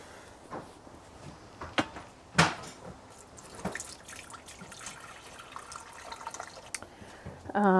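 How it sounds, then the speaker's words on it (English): Warm water is poured into a Thermomix TM7 bowl set on its scale while dough is prepared. A soft, uneven trickle runs throughout, broken by scattered drips and small knocks, with a brief tonal sound at the very end. "We want 720 grams of warm water"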